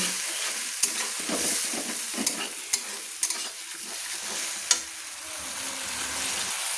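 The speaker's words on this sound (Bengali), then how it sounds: "ভালো করে মশলাটা আমি কষিয়ে নেব" Spice paste for a potato curry sizzles and fries in a pan while a spoon stirs it, with steady hiss and several sharp scraping clicks scattered through, close and moderately loud.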